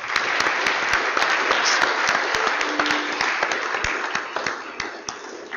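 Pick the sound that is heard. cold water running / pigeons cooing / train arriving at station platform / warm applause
warm applause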